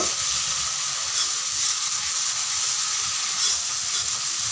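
Masala frying for an egg curry, a dense, even, hissing sizzle that holds steady and loud from start to finish, close up with no voices.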